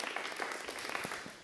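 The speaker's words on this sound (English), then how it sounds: "give us a round of applause" Audience applause at a gallery artist talk for an art faculty and staff exhibition, a steady wash of many hands clapping throughout, moderately loud and close, with no voices over it.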